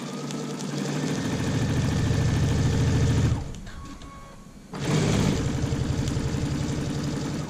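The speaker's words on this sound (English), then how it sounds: "Then I just sew to the other end." Close, steady whir and rapid stitching rhythm of a sewing machine running along a zipper bag seam, stopping briefly for about a second midway before starting again and continuing to the end.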